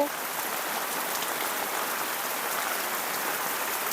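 A heavy downpour fills the air with a constant, close, broadband rush of falling rain that stays uniform from start to finish, with no talking.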